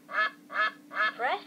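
A cartoonish electronic duck quack from a VTech My 1st Tablet children's toy, four evenly spaced quacks in quick succession, close and clear with no talk over them.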